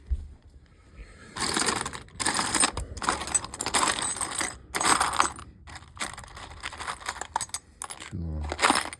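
Small metal screws rattled and shuffled through a pile by hand, with dense clinking bursts and pauses in between, close and fairly loud.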